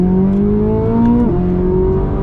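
A 2023 Corvette Z06 V8 pulls hard under acceleration, a loud steady engine drone rising in pitch then dropping at a gear change, heard from inside the car.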